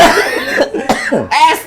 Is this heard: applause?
no